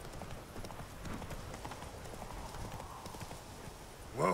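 Hooves of Geralt's horse Roach galloping in The Witcher 3: Wild Hunt, a steady rapid clip-clop that runs throughout at moderate volume, with a brief louder sound at the very end.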